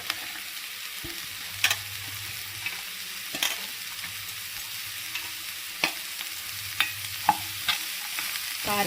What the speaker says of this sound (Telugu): ఇప్పుడైతే మనం చిన్నగా కట్ చేసుకున్న క్యారెట్ని అయితే వేసుకోవాలి